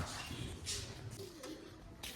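Caged pigeons cooing softly, low murmuring coos under faint background noise, with a few light rustles.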